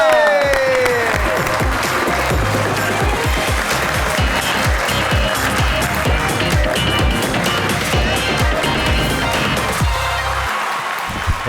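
A studio audience applauds at a talk show as a singer comes on stage, with dense, loud, continuous clapping that holds steady for several seconds before it thins out near the end.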